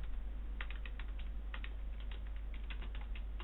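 Someone types an SMS on a computer keyboard, with quick irregular clusters of light key clicks over a steady low electrical hum, fairly faint and with no talk.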